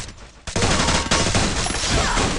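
Sniper and automatic gunfire ring out in a mobile battle-royale match, starting with a sharp shot and then bursting into a dense, loud barrage of rapid reports that runs for about two seconds.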